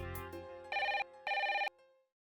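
A telephone rings in two electronic bursts, each lasting under half a second, loud and close, following a tonal lead-in, with no talk over it.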